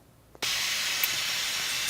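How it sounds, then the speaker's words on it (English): Steam is vented from a pressure cooker in a home kitchen, starting abruptly with a faint click and becoming a loud, steady, broad hiss that continues without break. "So I'm releasing the steam off of the pressure cooker"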